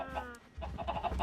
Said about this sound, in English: Why do I end up with a dozen chickens in the corner?